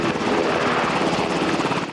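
Rescue helicopter flying during a blizzard rescue in the Smoky Mountains, its steady rotor chop and engine roar loud and continuous throughout, with no voices.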